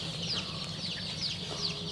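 Native Bangladeshi deshi chickens cluck at a chick hatchery, a continuous chorus of short clucks and squawks from several birds, moderately close with soft barn background noise and no speech.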